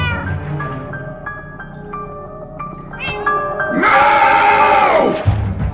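A cat in the Minecraft Story Mode video game gives a string of loud, close meows, rising into a long drawn-out yowl near the end.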